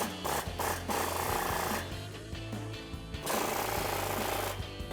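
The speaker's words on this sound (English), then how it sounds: "So now I'm just gonna remove these two sway bar mount nuts." An 18mm socket on a tool loosens the sway bar mount nuts of an F-150 in rapid, rattling bursts, close and loud, with short pauses between them.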